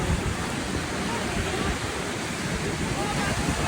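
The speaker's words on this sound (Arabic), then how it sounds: "بس هي عالية، الموج عالي" High sea waves surge and break along an uncrowded sandy beach in a steady, loud, continuous roar with no pauses, heard alone and close.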